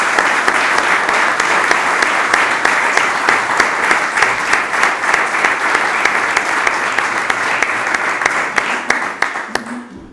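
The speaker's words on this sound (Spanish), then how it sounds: "Un fuerte aplauso, por favor." A lecture audience gives loud, sustained applause after a talk about the defence of Cartagena de Indias, dense clapping with sharp individual claps standing out throughout, tapering off in the final second.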